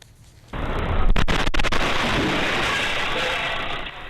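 A sudden loud gas explosion blasts through a beef noodle restaurant in Taichung, followed by a long, roaring wash of noise with sharp cracks as debris and glass scatter.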